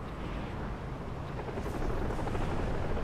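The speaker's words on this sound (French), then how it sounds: "Oh là, il y a des hélicos." Helicopters in Far Cry 3 Blood Dragon give a dense, steady rotor roar that swells slightly louder midway, a broad continuous rumble with no voices over it.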